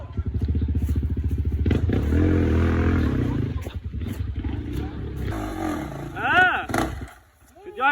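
A KTM motorcycle engine roars and revs continuously up close while riding a rough, slippery trail, its note rising and falling, with a brief voice near the end before the engine cuts low.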